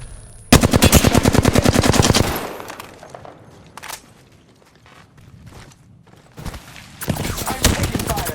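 Gunfire in the Apex Legends video game, a loud rapid burst of automatic shots, a few scattered single bangs, then another rapid burst near the end.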